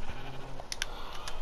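Sheep bleating in the video game Minecraft, a few short bleats set against a steady background bed, with no talk.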